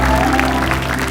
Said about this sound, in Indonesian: Tepuk tangan dong Ustadz Maulana nih.